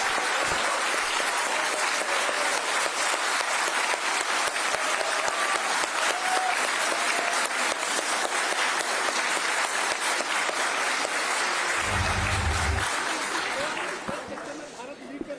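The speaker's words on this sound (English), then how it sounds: "Let's have a cheer for India." A crowd at a celebration for India's Chandrayaan-3 moon landing applauds and cheers loudly and continuously, a thick wash of clapping with shouts mixed in, tapering off near the end.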